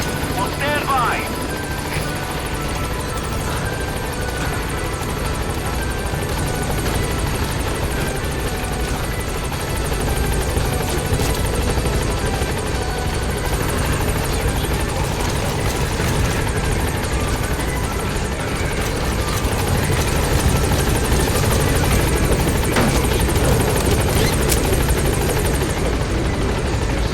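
A helicopter from the Metal Gear Solid V video game arrives at a landing zone with a steady, loud, close rotor drone that runs through the whole stretch and swells a little near the end, while game voices speak over it.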